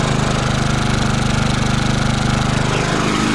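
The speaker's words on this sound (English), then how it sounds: "the exhaust noise, you can see how much exhaust is coming out." A generator engine running close by, with a loud, steady throbbing exhaust note that pulses rapidly and evenly throughout, with no voices over it.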